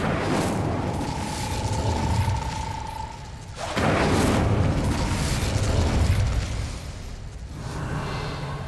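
A fire spell cast in Hogwarts Legacy on PS5, heard as loud booming bursts over steady game ambience, with a sustained tone early on, a sharp blast near the middle and further crackling surges.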